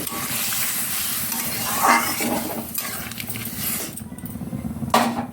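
Hot water poured into a sizzling mankochu (giant taro) curry in a pan, bursting into loud hissing and bubbling, with stirring scrapes and a brief clink of a utensil.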